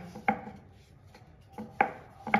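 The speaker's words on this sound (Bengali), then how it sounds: "আর একটু হালকা হাতে বেলতে হবে যাতে আলুটা বেরিয়ে না যায়" A rolling pin working potato-stuffed paratha dough on a board, with soft dull knocks and rubbing strokes at an uneven pace, fairly quiet and close, with no talking.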